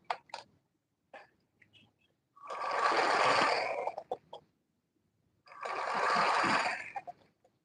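A sewing machine top stitches through a gown's lining in two sustained bursts of steady whirring, each about a second and a half long, separated by quiet pauses and a few light handling clicks.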